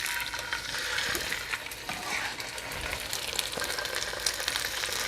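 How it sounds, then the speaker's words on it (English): Salmon sizzles and crackles steadily in hot oil in a pan, a dense, close frying hiss with scattered pops and no voices. "when the oil starts to shimmer like that, we're good, because we want that sizzle."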